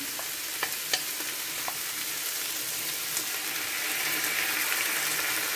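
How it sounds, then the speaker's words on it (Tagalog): Pork liver stirred in a hot pan as its marinade is poured in, with a steady hiss of frying, a few sharp clinks of the utensil and the sizzle growing louder near the end. "ilagay ko na din po yung ating pinagbabaran."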